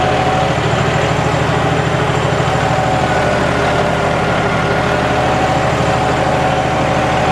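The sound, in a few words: John Deere 5210 tractor engine under load, RPM dropping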